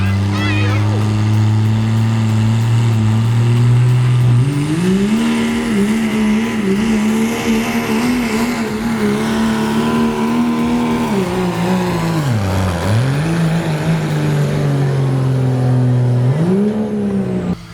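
The Dirty Diana diesel truck roars loud and close on a test pull run, its engine note surging and rising, dipping sharply near the end before climbing again, with tire noise under the engine.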